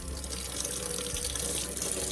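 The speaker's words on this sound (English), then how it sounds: "I'm going to run it under the tap just so that I can spray the leaves off as well." Tap water pours steadily over the leaves of a potted Chinese evergreen plant, a continuous, close hiss and splash that holds at an even level throughout, with no one speaking.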